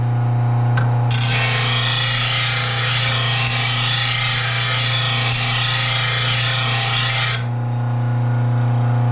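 Steady abrasive grinding on a lawn mower blade for a LawnBoy push mower with a Kohler engine: a loud, sustained rasp that starts abruptly, holds evenly for about six seconds, then cuts off over a constant motor hum.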